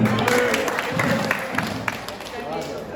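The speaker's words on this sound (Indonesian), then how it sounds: "Kasih tepuk tangan" Applause from participants at a hands-on Islamic funeral shrouding class, scattered clapping mixed with crowd murmur and voices talking over it, fairly close and moderately loud.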